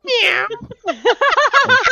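During a tabletop Dungeons & Dragons game, a person's voice imitates a cat with a drawn-out meow, followed by a quick burst of more speech-like mewing, close and clear.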